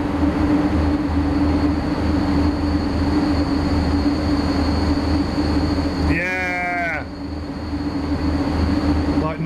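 Train rolling along in the SimRail simulator, a steady rumbling drone with a brief squealing, harmonic screech partway through, loud and continuous.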